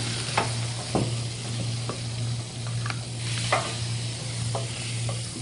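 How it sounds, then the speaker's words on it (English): Butter sizzles steadily in a hot pan, a continuous crackling hiss with occasional sharper pops and a low hum underneath. "the butter is sizzling."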